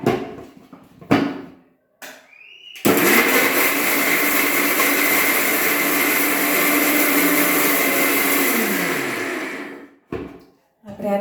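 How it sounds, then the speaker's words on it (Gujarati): A kitchen mixer grinder runs loud and steady for about seven seconds grinding leftover rotis, motor pitch dropping as it winds down, with short handling clatters before and after. "આપણે એને મિક્સરમાં નાખીને કરી લઈશું."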